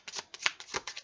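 Oracle cards shuffled by hand, a quick run of soft crisp riffling slaps, close and quiet, with no talk.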